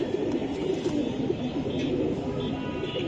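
Silver Giribaz pigeons of the Palla line coo steadily in a low, continuous murmur. No one speaks over the cooing.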